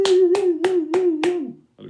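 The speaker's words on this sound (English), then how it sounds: "give them a big round of applause" Pupils' classmates clap for bronze badge winners at a school awards assembly: five sharp, evenly spaced claps in a steady rhythm over a sustained tone, then a short pause.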